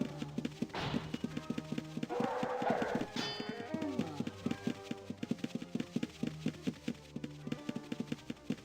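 Steady rhythmic clip-clop of horse hooves in the Ultima Online video game, quiet and even, with a couple of brief louder effects early on and no speech.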